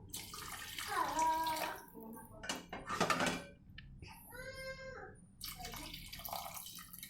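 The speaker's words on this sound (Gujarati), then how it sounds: "અહીંયા આપણે એ જ કપથી બે કપ જેટલું પાણી એડ કરીશું" Water is poured from a cup into a pot of rice for aloo matar pulao, sounding as a few bursts of splashing and trickling, close by, with short pauses between pours and some background noise.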